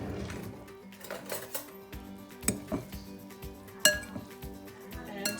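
Drained spaghetti being stirred with slices of butter in a metal pot, giving a string of close, irregular clinks and scrapes of utensil against cookware with quiet gaps between.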